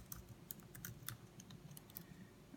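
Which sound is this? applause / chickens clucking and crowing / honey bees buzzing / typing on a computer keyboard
typing on a computer keyboard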